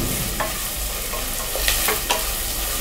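Onions sauté in about 50 ml of oil over a low flame for chicken biryani, a steady close sizzle with a few sharp spatula scrapes and stirs.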